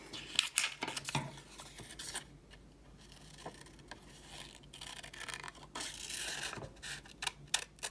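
Scissors cutting out a paper shape with pointed edges, soft, close snips and rustling paper in irregular bursts, quiet and without any talking.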